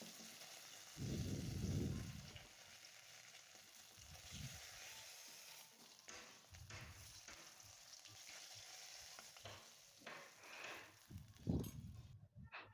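Snakehead fish frying in oil in a wok, with a soft, steady sizzle and several dull knocks and scrapes as the pieces are stirred and turned. No one speaks.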